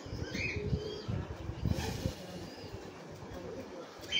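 Large pink Shatim pigeons at a pigeon farm, low cooing in short bursts close by, mixed with shuffling and a busy background murmur.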